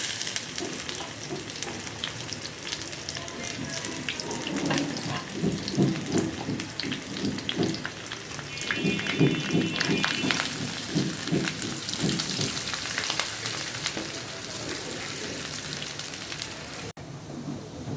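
Dried chilies and onion frying in hot oil for a tempering, producing a dense, continuous hiss and crackle with bursts of bubbling sputter, close and fairly loud.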